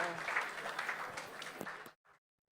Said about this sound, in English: Maybe a small round of applause.